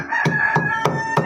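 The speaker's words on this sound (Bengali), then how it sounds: "এখান দিয়ে আমার মোরগ ডাকতেছে।" A steady rooster crow runs throughout, held high and loud, broken by a few short sharp knocks or taps recurring at roughly regular intervals.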